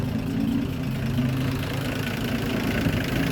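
A Land Rover Series 3 109 with the 2.6 engine idles steadily up close, a low, even, rumbling drone that holds without pause.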